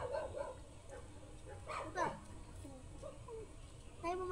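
Several dogs give short yips and barks, with some whimpering, scattered at a moderate distance amid outdoor ambience while people talk.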